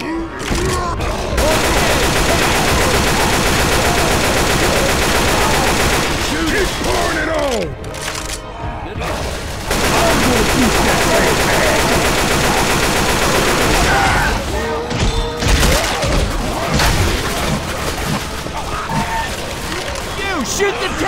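Dense automatic gunfire rattles almost without pause in the zombie shooter Left 4 Dead 2, loud and close, with brief dips in the shooting and game voices shouting over the barrage.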